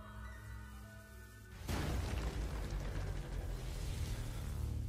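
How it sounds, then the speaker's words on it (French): A bomb goes off in the Lord of Mysteries anime: after a quieter opening, a sudden loud blast hits and breaks into a dense, sustained roaring rumble that carries on to the end. "C'est une bombe."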